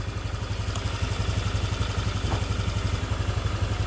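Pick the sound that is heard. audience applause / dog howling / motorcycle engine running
motorcycle engine running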